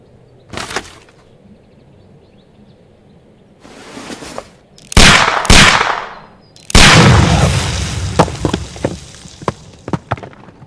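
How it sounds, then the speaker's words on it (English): In a Sherlock Holmes detective video game, a pistol is fired at a package, giving loud, sharp bursts followed by crackling, debris-like noise, close and dominant with no talk over it. "Do you have your pistol? Good. Fire at this package."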